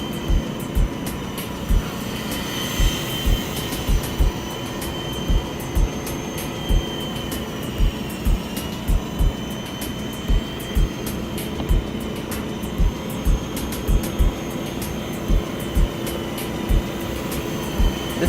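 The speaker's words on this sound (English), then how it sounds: "It flies just like a regular traditional flybar helicopter" Constant whining buzz of a Walkera V370D01 flybarless RC helicopter hovering nearby, steady pitch with faint rhythmic clicks throughout, no voices.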